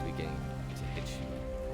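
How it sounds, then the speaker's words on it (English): Rain ambience plays as a background effect in a tabletop game session, a faint continuous patter and hiss with low rumbling underneath. "the rain and thunder has begun to hit you"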